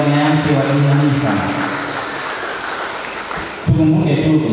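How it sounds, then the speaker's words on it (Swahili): A church congregation at a healing service applauds a woman's testimony, a dense wash of clapping that fades slightly before a voice cuts in near the end. "Tuongeze makofi zaidi kwa ushuhuda wa neema wa Hanifa"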